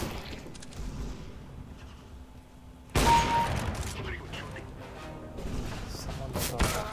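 Gunfire in Counter-Strike: Global Offensive arrives as a sudden burst of shots after a quieter stretch. Rattling reports and thuds follow, and a voice speaks over the shooting.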